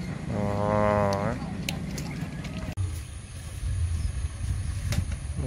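A coal freight train hauled by a locomotive rolls past, opening with a loud, drawn-out horn blast before giving way to a rumbling, clattering passage of wagons, with faint talk nearby.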